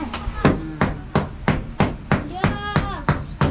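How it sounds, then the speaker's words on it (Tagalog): A hammer striking a nail in wood, ten sharp, evenly spaced blows in a steady rhythm, close and loud, with faint voices between the strikes. "Martilyo na eh."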